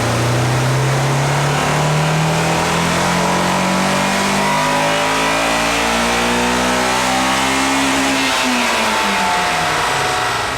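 A stock Honda S2000 strapped to a DynoJet chassis dyno revs hard through its range, a loud rising engine wail climbing steadily for about eight seconds before cutting back and dropping in pitch, no voices.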